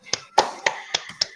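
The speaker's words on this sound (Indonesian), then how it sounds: "Kita beri tepuk tangan." A few sharp, separate claps or taps from an audience at an in-house training session, five quick hits spaced out over a brief moment with near silence between them.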